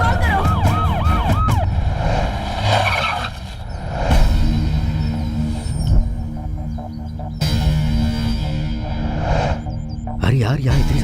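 Police and ambulance sirens wail in rising and falling tones at an emergency scene, loud and fairly close, with traffic noise and people talking over them.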